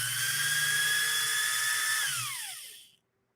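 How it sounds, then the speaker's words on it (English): Electric motor on a Pfaff 130-6 sewing machine spinning at very high speed near 7,000 RPM with a belt-driven pulley, a loud steady whine that sweeps downward and fades to silence as it spins down. "This motor tends to run very, very fast"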